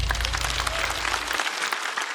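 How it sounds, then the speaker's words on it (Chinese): A studio audience at a stand-up comedy show claps for the comedian Huya, a dense burst of applause that stays strong and even, with a low rumble fading out partway through. "来，掌声送给虎牙。"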